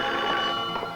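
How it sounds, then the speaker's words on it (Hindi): A telephone rings continuously for about a second in an indoor scene from an old Pakistani film, steady and fairly loud, with no voices over it. "मैं जरा टेलीफोन सुन के आता हूँ।"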